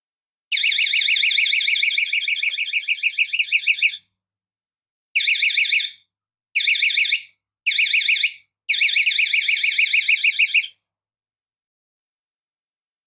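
A loud, shrill electronic alarm from a cheap window alarm converted into a water leak detector warbles continuously, then sounds in several short bursts separated by silence.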